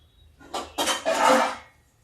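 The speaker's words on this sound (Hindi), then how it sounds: "मैं कढ़ाई रख देती हूँ तब तक" A kadhai (wok) clatters down onto a home kitchen gas stove, a few quick metallic knocks and scrapes over about a second, close and fairly loud, with no talking.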